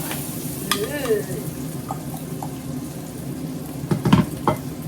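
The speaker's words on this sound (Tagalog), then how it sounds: "lutuin lang natin itong mga bawang" Minced garlic sizzles in hot oil in a pan with a steady close hiss, broken by a few sharp spatula clinks and scrapes near the end.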